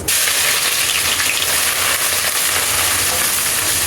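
Chopped onion dropped into hot mustard oil with whole spices, a loud dense continuous sizzle like heavy rain, close and steady throughout with no speech.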